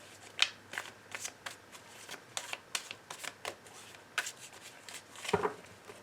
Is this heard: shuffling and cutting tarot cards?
yes